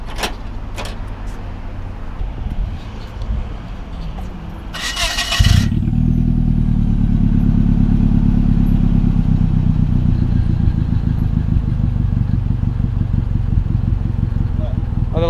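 After a fuse repair, a motorcycle engine cranks, catches with a loud burst and settles into a steady, close, rumbling idle. Quieter clatter comes before the start, and people talk around it.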